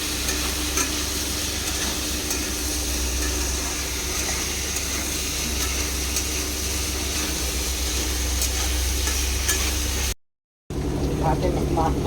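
Potatoes with turmeric sizzle in a frying pan for aloo posto while a spatula stirs and scrapes steadily, a close continuous hiss that cuts out briefly near the end.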